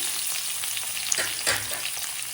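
Mixed vegetables including carrots fry in a pan with a steady, close sizzle and faint crackles and stirring scrapes, alone without talk.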